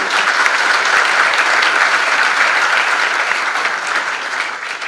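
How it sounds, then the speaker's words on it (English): Sustained, dense applause from a forum audience at an investment conference, steady and loud across the whole stretch, easing slightly toward the end with no talk over it. "a big applause for our sponsors"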